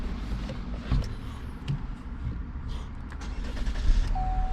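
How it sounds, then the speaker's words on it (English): Chevy Malibu engine starting after a throttle body replacement, a steady mechanical rumble and motor hum that stays close and even, with a few small clicks on top and no voices. "it will crank right up without a problem, as it do right here"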